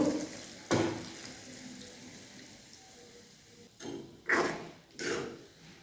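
Hot water splashes into a hot pan of cucumber curry in a few short bursts separated by quieter pauses, with faint sizzling in between.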